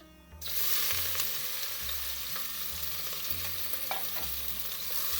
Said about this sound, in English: as soon as your oil gets hot, we'll put the onions first